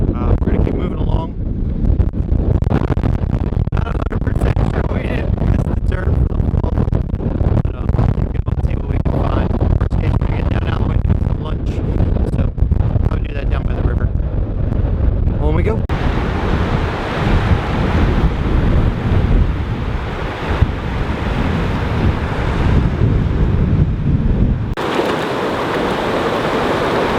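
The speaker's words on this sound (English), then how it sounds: "it's really, really windy" Strong, gusting wind buffets the microphone on a hiking trail near Bridal Veil Falls in Clark, Wyoming, a loud, continuous roar that shifts in character partway through and drops away briefly near the end.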